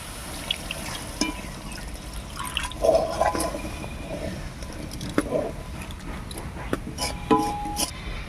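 Water is poured into a pan of paneer curry, giving soft trickling and splashing with a few faint clinks from the pan, quiet throughout and without speech.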